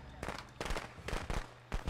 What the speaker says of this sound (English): You drop firecrackers